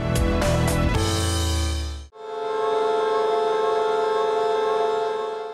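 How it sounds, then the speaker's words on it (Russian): A loud factory siren blares, first with a brief burst of harsh tones, then a sustained, steady wailing drone that holds on without pause. "Заводская сирена ревет, будто преданный пес, потерявший хозяина"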